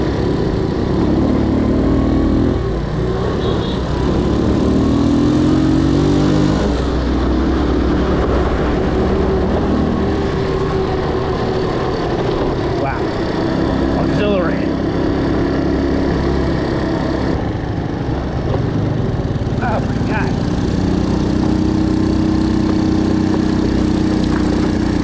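A motorbike engine droning steadily while riding behind a truck on a rough mountain road in Vietnam, loud and continuous with shifting revs and rumbling truck noise nearby.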